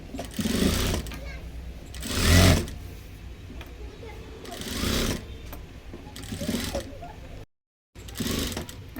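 A sewing machine stitches a four-tuck blouse in short, buzzing bursts separated by pauses, fairly close and moderately quiet, with someone speaking between and over the runs.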